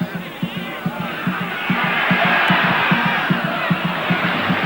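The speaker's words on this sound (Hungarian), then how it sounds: "A próbálkozást is taps jutalmazza." A stadium crowd at a ZTE versus Kispest football match applauds a shot attempt, a broad, steady wash of clapping and crowd noise with a regular low thumping pulse running underneath throughout.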